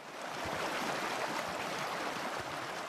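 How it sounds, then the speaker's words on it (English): A loud waterfall in the video game Gorilla Tag roars as a steady, dense wash of rushing water that fills the whole stretch evenly, with no voices. "I thought the waterfall was so much quieter than that. But no, it was actually quite loud."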